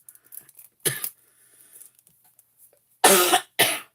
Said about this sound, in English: I'm hoping this coughing goes away.